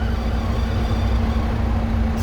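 A truck engine hums low and steady at close range as the clutch is let out slowly during an air brake test, an even rumble with a constant drone and no talk.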